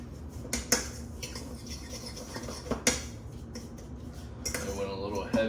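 Spices such as ground ginger, garlic powder and oregano being stirred into a homemade buttermilk brine for smoked chicken legs, giving soft scraping and clinking of utensil against a bowl, with a few sharper knocks, close and fairly quiet.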